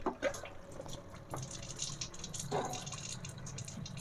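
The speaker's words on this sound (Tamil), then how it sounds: "தண்ணி நல்லா கான்ஸ்டன்ட் ஆகுது." Water running from an RO water purifier with its solenoid valve bypassed, a soft close trickle and splash into a container with occasional drips and clinks, fairly quiet and steady.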